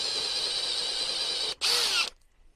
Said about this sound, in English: I'm going to go up to 8, so an 8mm drill bit.